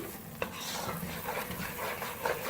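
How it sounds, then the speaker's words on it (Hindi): Chana dal halwa being roasted in ghee with milk powder added, a spoon scraping and stirring the thick mixture in a pan with a soft sizzle, close and fairly quiet. "अब आखिर में हम इसमें पाउडर मिल्क शामिल करेंगे। थोड़ी देर और भूनेंगे"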